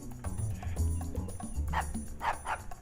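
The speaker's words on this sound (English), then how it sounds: "I hear dogs." Dogs barking at a house in a short film, a few sharp barks and yips in the second half at moderate distance, above a low rumbling background with no clear speech.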